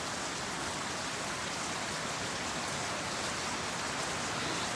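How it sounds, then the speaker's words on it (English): Steady rain falls on a farm on a Friday evening, a dense, even hiss of drops on surfaces that continues without a break, soft and enveloping, with no voices. "Listening to the raindrops."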